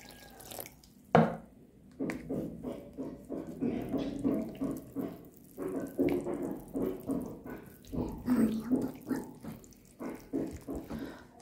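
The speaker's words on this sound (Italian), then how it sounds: "E comincio ad aggiungere l'acqua poco alla volta." Water poured a little at a time into a bowl of bread dough mixed with sunflower oil and sugar: steady running and splashing with brief drips, moderately close and continuous, with no talking.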